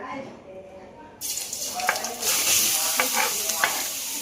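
Beetroot dropped into hot ghee in a pan, a sudden loud sizzle that keeps crackling and hissing with stirring scrapes, close by.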